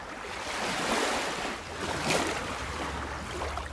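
Surf washes in at low tide on a beach in Sariaya, Quezon province, a broad, steady roar with gentle rises and falls, mixed with wind buffeting the microphone.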